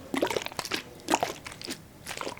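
Bottles of tobacco cleansing water are shaken nearby, giving short wet sloshes and crunchy splashes in quick irregular bursts, fairly faint and close with no talking.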